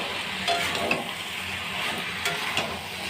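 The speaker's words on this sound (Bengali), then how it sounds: "অল্প শুটকি মাছ দিয়ে নাড়াচাড়া করে তারপরে জল দেবো, মিশিয়ে নেব।" Vegetables stir-fried with dried fish (shutki) in a pan make a continuous close sizzle, with a few soft stirring knocks and scrapes and no voices.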